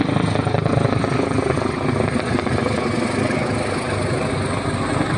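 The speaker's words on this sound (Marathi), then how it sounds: "हेलिकॉप्टर बघा इकडं किती." A helicopter flies over a beach with a loud, continuous rotor and engine roar that holds steady throughout, close and dominant with no talk.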